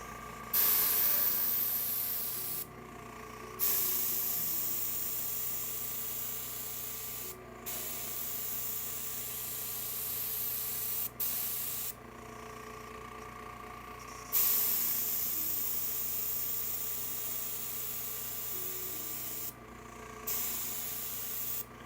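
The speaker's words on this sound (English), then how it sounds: "What kind of airbrush you got, Jerry?" An airbrush sprays paint onto an HO scale model restaurant in long steady hissing bursts separated by short pauses, close and fairly loud with no talking over it.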